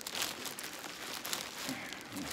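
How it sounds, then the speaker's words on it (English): Plastic packaging around a black motorcycle crash bar for a Harley-Davidson Low Rider crinkles and rustles steadily as it is unwrapped close by, with no talk. "So let's unwrap this thing."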